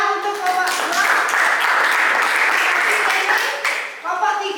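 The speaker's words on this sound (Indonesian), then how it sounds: "tepuk tangan untuk kelompok 6" Classroom applause as students clap for a presenting group, steady dense clapping mixed with chatter and voices throughout, tapering off near the end.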